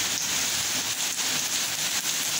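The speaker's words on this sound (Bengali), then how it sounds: "কত জোরে বৃষ্টি হচ্ছে" Heavy rain pours down outside a home, a steady dense hiss of drops drumming on surfaces that runs unbroken throughout, with no voices.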